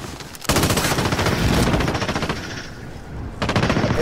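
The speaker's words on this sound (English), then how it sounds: "Okay, I hear a shot from popping." Automatic gunfire in the video game Warzone, loud rapid bursts filling most of the moment with a brief pause, close and intense, no talk.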